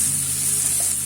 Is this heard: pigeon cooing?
no